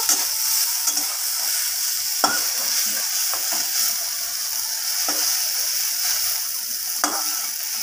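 Sliced bitter gourd fries in a pan with a constant bright sizzle, broken by occasional sharp clicks as a spatula stirs and scrapes the pieces.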